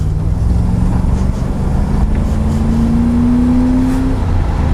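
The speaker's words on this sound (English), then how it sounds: "Let's see how it accelerates." Chevrolet Camaro IROC-Z accelerating, its engine note holding loud and steady close to the cabin with a pitch that climbs gradually as it pulls.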